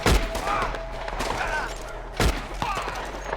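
Rapid gunfire in the Red Dead Online video game, with sharp close shots in quick bursts over a low steady rumble, a heavy thud starting the clip and another loud volley about two seconds in.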